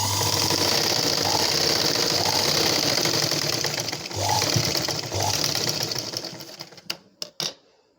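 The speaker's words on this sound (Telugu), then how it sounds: "ఇప్పుడు కొంచెం ఫోల్డ్ చేసుకొని మనం స్టిచ్చింగ్ పాయింట్ దగ్గరికి స్టిచ్చింగ్ చేసుకోవాలి." A sewing machine stitches a blouse, running in a loud steady mechanical chatter with brief pauses, then slowing into a few separate clunks before stopping, close by and with no talk.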